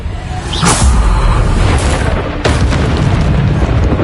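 Deep booming blasts of the Bombarda explosion spell in Hogwarts Legacy, two loud whooshing bursts that roll into sustained rumbling.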